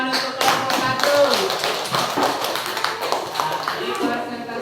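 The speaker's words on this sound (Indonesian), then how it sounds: "Ayo kelompok 1 beri tepuk tangan untuk kelompok 1" A classroom of students applauds for the first presentation group, a lively patter of many hands clapping steadily for several seconds while a teacher's voice carries over it.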